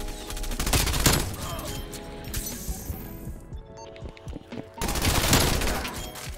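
A PPSh submachine gun fires in Call of Duty Cold War, long dense bursts of rapid gunfire with a gap of scattered lighter shots and clinks in the middle before another loud sustained burst.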